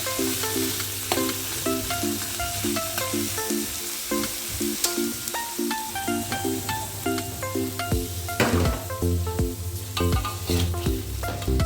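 Continuous sizzling of shrimp frying in hot oil in a wok, with scraping and tossing clatters from stirring, loud and close throughout.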